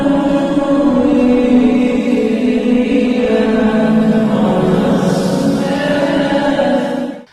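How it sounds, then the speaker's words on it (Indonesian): A sustained vocal nasheed line sung with a heavy reverb effect, smeared and washy tones held continuously without breaks, loud and close. "kalau reverb atau gaung itu suaranya seperti ini"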